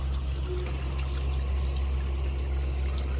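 Water pours steadily into animal water bowls outdoors on a giant tortoise farm during an early-morning routine, a continuous close trickling wash over a low steady hum.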